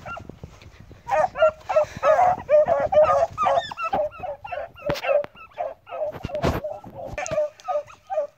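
A pack of hounds barks and bays on a rabbit trail in a busy, overlapping chorus, fairly close, with a few yips mixed in.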